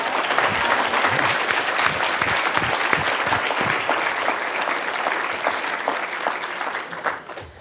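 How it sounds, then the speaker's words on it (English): Sustained audience applause at an evening talk, many hands clapping densely and steadily for several seconds before tapering off near the end. "Can we have another round of applause?"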